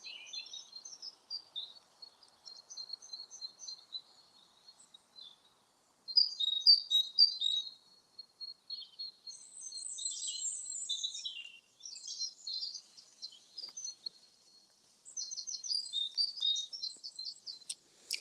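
Birds sing and chirp continuously in woodland in high, bright phrases, several songs overlapping in bursts against an otherwise quiet background.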